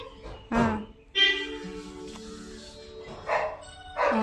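A dog barks in a few separate, close barks with pauses between them, along with a brief whine-like sound; little else is heard.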